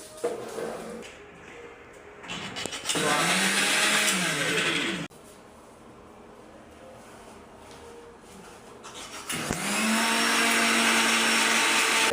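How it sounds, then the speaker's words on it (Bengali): A kitchen blender whirs loudly in two separate bursts while mixing mayonnaise ingredients, its motor pitch shifting as the contents blend, with a quieter pause between runs. "আর ভাইয়া এখন এই জায়গায় ব্লেন্ডার করবে"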